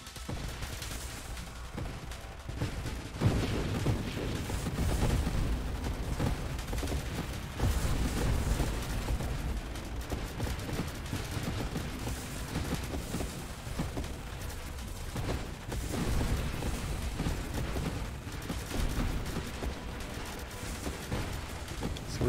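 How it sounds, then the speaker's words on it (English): Turrets firing missiles in a video game make a dense, continuous barrage of booms and rapid shots. The rumbling stays layered and steady throughout, with no pauses. "Wonder how many missiles our turrets are shooting now."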